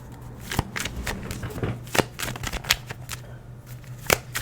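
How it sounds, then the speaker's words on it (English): A deck of tarot cards is shuffled by hand close up, with repeated sharp riffling snaps and soft slides at an irregular rhythm, the cards clacking together over a faint low hum; no one speaks. "Still shuffling, trying to tap into the energy."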